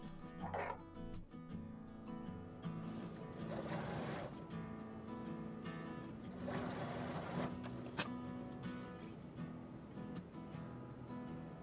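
Sewing machine stitching quilt four-patch units pieced from 2.5 inch fabric squares, a continuous fast whirring rattle with slight surges in speed, close and steady throughout.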